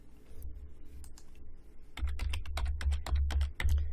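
Typing on a computer keyboard: quick bursts of close, crisp key clicks, lighter at first and then a denser, louder run of keystrokes over a low background hum.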